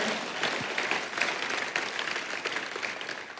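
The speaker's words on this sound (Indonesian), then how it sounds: "kita kasih tepuk tangannya yang paling meriah buat Tuhan kita" A church congregation claps together during a worship service, a fairly soft, even patter of many hands sustained throughout with no voices on top.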